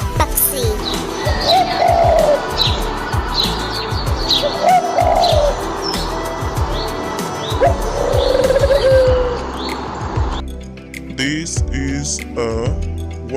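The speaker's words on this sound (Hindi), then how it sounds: "This is a dove." Birds call in a busy outdoor setting, with repeated chirps and a dove's soft coos recurring every few seconds, close and fairly loud amid background noise.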